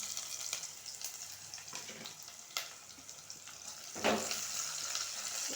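Bay leaf frying in hot oil for biryani, a soft continuous sizzle with scattered crackles and a few sharper spatters, fairly quiet and free of speech.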